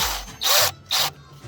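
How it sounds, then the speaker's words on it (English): Two loud, broadband ratcheting bursts of a drill chuck being tightened, each about a third of a second, separated by a short pause, close up with a low hum beneath. "I'm gonna tighten down the drill"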